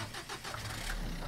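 A car engine in a roleplay video game rumbles at a low, steady idle with a rough, throbbing texture, close and continuous through a short stretch.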